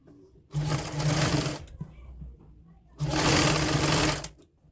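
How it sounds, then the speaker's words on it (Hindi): Sewing machine stitching lace onto woolen kurti fabric. It runs in two close, steady bursts of about a second each, separated by a short pause, with no talk. "उल्टी साइड से हमने थोड़ा सा इसको फोल्ड करना है लैश को और हमने यहाँ से सिलाई शुरू करनी है"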